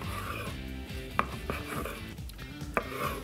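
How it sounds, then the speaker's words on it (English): A knife works slowly through a slab of homemade buckboard bacon, cutting thin slices, with soft scraping strokes and a few sharp taps of the blade on the board, close and fairly quiet. "I'm trying to just get some really thin slices"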